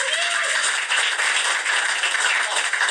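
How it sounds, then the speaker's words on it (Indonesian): An audience at an Indonesian presentation-skills seminar claps steadily for a speaker, a dense, even wash of many hands sustained for the whole stretch with no voices over it. "Tepuk tangan untuk Pak."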